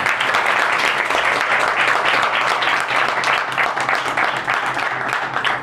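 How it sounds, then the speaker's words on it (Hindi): Loud, sustained applause from a church congregation fills the whole stretch, dense and steady from start to finish, with no voices standing out. "आए हम मिलकर खुदा बाप, बेटा, रूह कुद्दस के लिए ज़ोरदार तालियां बजाएं।"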